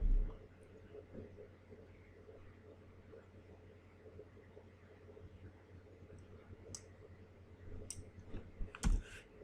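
Computer mouse clicks while editing text, faint scattered clicks at close range over a quiet room hum, with a few sharper clicks near the end.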